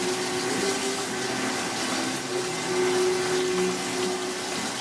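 Starbucks coffee machine making a cappuccino, a steady whirring, hissing hum with a faint tonal whine, close and continuous, without talk.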